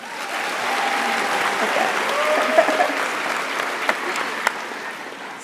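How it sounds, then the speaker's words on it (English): Keynote audience giving a brief round of hand claps, a steady wash of many hands at moderate distance, with a speaker's short word heard over it. "if you could just give me a couple of hand claps if you've ever been to a Disneyland park anywhere in the world"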